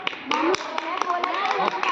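Scattered, uneven claps from children in a school classroom ring out in short bursts over chattering young voices, close and fairly loud.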